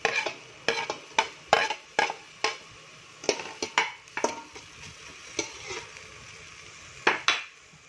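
Onion leeks stirred in a pan with a little oil while cooking sizzling mackerel scad with crispy tofu, heard as a series of close, sharp scraping strokes of a spatula against the pan over a faint sizzle, with no talking.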